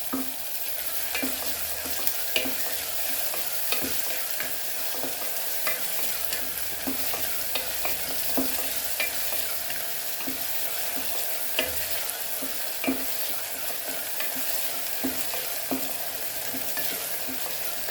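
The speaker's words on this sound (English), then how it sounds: "Let the onion be fried nicely." Onions frying in a pan for dal fry make a continuous close sizzle, with light stirring clicks and scrapes at irregular intervals throughout. No one speaks.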